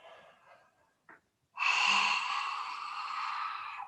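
A long, breathy exhalation during a yoga breathing exercise: brief faint breaths first, then from about halfway a loud, steady, airy outbreath that carries on to the end, close to the microphone with no talking.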